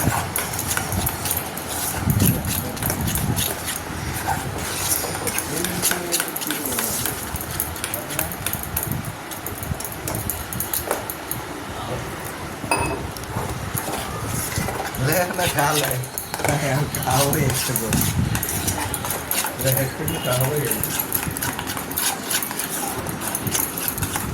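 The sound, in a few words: whisking batter for eggplant pakora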